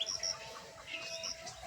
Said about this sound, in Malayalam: ഇതേ രാവിലെ കുരുവികൾ വന്നു